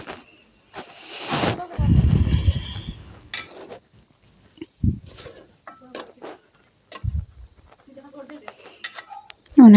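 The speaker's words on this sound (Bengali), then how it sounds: "অনেক সময় লাড়াচাড়া করলাম" A spoon clatters and scrapes in a pot of homemade desi chicken curry with boiled potatoes, stirred in intermittent bursts with a loud scraping stretch early on, then scattered clinks and pauses.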